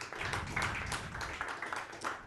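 An audience at a live comedy show claps steadily for a couple of seconds, a dense, even patter of many hands at moderate loudness filling the room.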